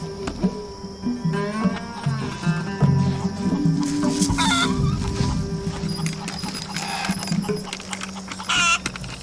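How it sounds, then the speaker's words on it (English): Chickens clucking and murmuring nearby, a busy overlapping chorus of short calls with some livestock-yard clatter in the background. "Mom, should we feed the chickens some more?"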